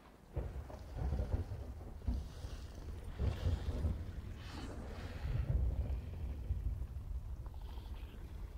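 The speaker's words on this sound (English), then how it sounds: "I guess I will have to wait till the storm hits. That's on top of me." A storm rolls in during The Cycle: Frontier game, with deep rumbling thunder and a steady wash of rain and wind, loud and continuous with swelling peaks, no voices.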